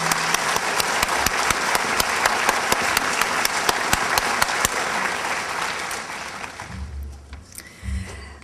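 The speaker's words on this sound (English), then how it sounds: "let's give them a big round of applause" Audience at a dedication ceremony applauding, a loud steady clapping that runs several seconds, then fades out, followed by a few low thumps.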